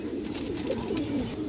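Green-necked Bagha pigeon chicks coo in a low, steady murmur, a few soft rolling calls rising close by with no talk over them.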